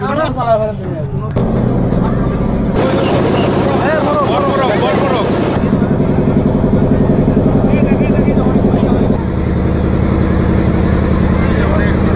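The engine of a small tour boat on a trip around an island in the Sundarbans drones loudly and steadily, with a deep low rumble and a shifting higher whine. Voices talk over it early on.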